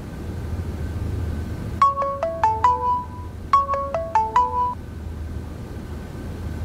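A mobile phone ringtone plays two short bursts of a bright, descending-and-rising melodic chime, close and clear against a low background hum, with no voices in between.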